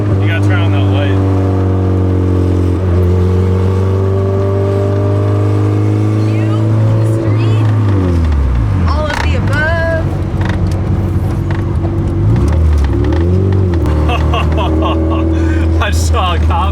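A fully built LS VTEC engine in a Honda Civic EG hatchback drones loud and close while driving, holding a steady low tone that dips and rises as the revs shift, with people talking over it.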